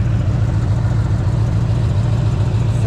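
A 1973 Corvette engine, running a little rich, idles with its exhaust gaskets fitted, giving a loud, steady low rumble with an even pulsing throb and no revving throughout.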